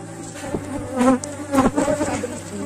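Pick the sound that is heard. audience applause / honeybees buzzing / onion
honeybees buzzing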